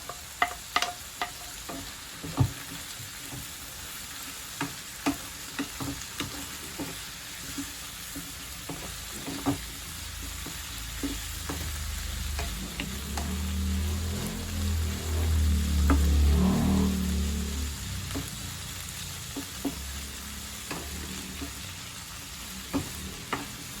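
Carrots drop into a hot pan of oil for a Filipino sweet and sour fish, setting off a quiet steady sizzle that swells briefly as they are stirred, with scattered light clicks of utensils throughout.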